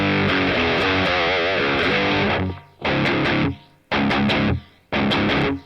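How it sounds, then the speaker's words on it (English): Distorted electric guitar through a Boss Katana Mk 2 amp with a light quiet-room reverb, a sustained chugging riff and then three short chopped bursts separated by abrupt silences, loud and close. "It's just a kind of a quiet room reverb."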